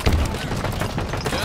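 Gunfire in Halo Infinite multiplayer on the Streets map, a dense run of overlapping shots and bursts with low booms, loud and continuous under game announcer and voice chatter.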